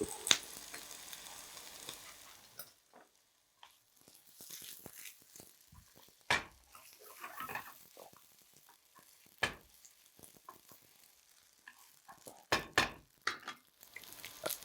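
Ginger and garlic fry in a pan for a Chettinad paneer dish, a soft, low sizzle broken by sharp scrapes and stirring clatters, with sparse bursts near the end.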